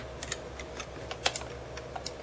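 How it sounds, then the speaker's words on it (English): Keystrokes on a computer keyboard while working on a Nintendo Famicom Lagrange Point conversion, a sparse run of light, irregular clicks and taps close by over a quiet room hum, with no one talking. "So if we do it with the keyboard."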